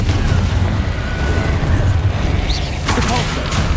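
A Confringo blasting spell in Hogwarts Legacy, a loud dense booming burst that rumbles on continuously, with a sharper crackling hit near the end and game noise layered underneath.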